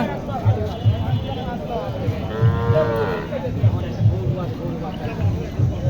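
Cattle mooing at a traditional cow and calf market in Naogaon, Bangladesh, with several drawn-out moos over a busy crowd and nearby talk.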